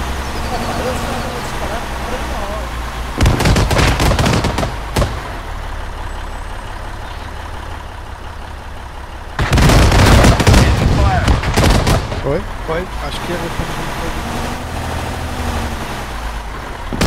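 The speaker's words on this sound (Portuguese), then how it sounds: "temos aqui tiro aqui atrás do helicóptero" Bursts of Arma 3 gunfire, two loud volleys of rapid shots behind a helicopter, each lasting a couple of seconds, over a steady engine rumble, with players talking.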